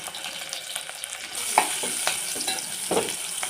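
Green chillies, onion and turmeric fry in a pan with a soft, continuous sizzle, punctuated by a few scraping stirs and small pops.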